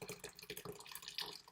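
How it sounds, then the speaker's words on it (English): A mixture of melted butter and milk for no-bake chocolate oat cookies poured into a bowl, a brief, soft, quiet liquid trickle and splash with no speech. "It is melted butter, melted milk, everything else. So I'll show you this. I'm going to pour it in the bowl."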